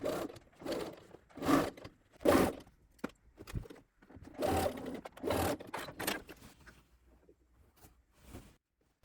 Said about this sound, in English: Then stitch very close to this folded edge